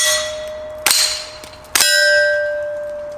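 Suppressed Ruger 10/22 rifle in a Desert Tech Trek-22 bullpup chassis firing at small steel plates 10 yards away, giving two sharp ringing clangs about a second apart over a sustained metallic ring and low background noise.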